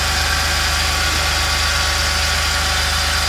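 A 2011 Jeep Liberty's 3.7 liter V6 idles loudly after a cold start, a steady, close, rhythmic engine drone with a clattering edge.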